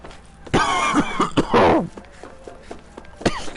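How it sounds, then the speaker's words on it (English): Several harsh coughs and throat clearings come in a short burst, close and loud, followed by quieter breathing and a small cough near the end. "Stupid cough."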